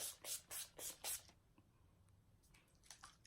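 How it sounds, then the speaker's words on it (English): NYX Matte Finish setting spray is misted onto a face in four quick, close hissing pumps evenly spaced over about a second, followed by quiet rustling and a few faint taps. "Then next I go in with this NYX Matte Finish Spray."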